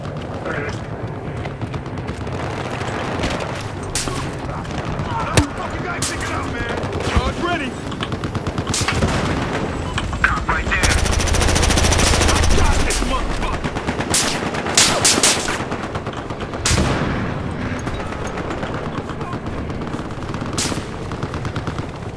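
Rapid automatic gunfire and bursts of shots crackle in a Battlefield Hardline match, with dense volleys and heavier blasts through the middle, while a player talks over the action.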